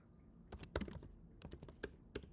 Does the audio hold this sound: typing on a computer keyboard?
yes